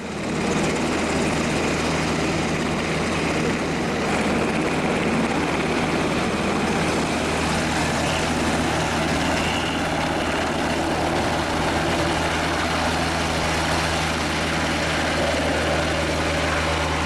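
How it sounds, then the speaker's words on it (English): A Black Hawk helicopter flies over Alaska, its loud, steady rotor thump and turbine whine continuous and close throughout, with no voices. "seeing a Black Hawk helicopter is certainly another story"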